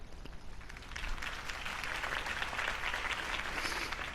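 Steady crowd applause in the Telltale Batman game, swelling after a moment and holding as a dense wash of clapping.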